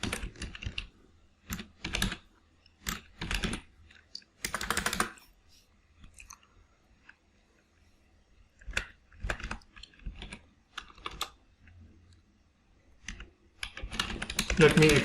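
Someone types a shell script on a computer keyboard in short, quick bursts of crisp key clicks separated by pauses, close and clear, with no voice over it.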